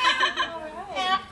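A yellow-naped amazon parrot singing, a warbling, whistly, voice-like melody with rising and falling pitch glides, close and fairly loud, phrases separated by a brief pause.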